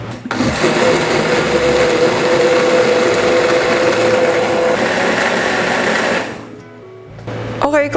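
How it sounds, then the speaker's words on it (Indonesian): A loud, steady whirring glass jar blender runs close up for several seconds, then cuts off, leaving a brief quieter stretch before more noise starts. "ini kita akan blender ya"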